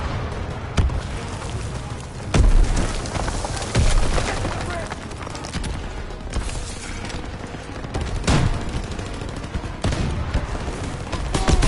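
Gunfire from towers rattles through a Call of Duty WW2 battle, with sharp cracks and bursts scattered over a constant dense din, loud and near, while voices shout over the fighting.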